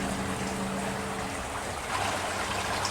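A brook flows under a covered bridge at a nature sanctuary in Baileys Harbor, Door County, Wisconsin, giving a steady close trickling and rushing water sound that carries on alone without pause.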